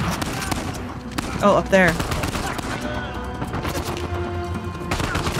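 Gunfire rattles in Uncharted 4 in rapid, close bursts like a firefight, while a voice speaks briefly over the shooting.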